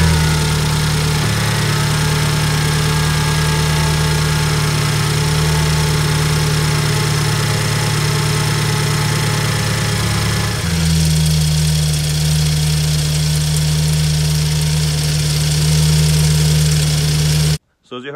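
A BMW engine idles after its wastegate exhaust manifold has been replaced, giving a loud, steady, even hum with no rattle. The tone shifts slightly partway through and the sound cuts off abruptly at the very end.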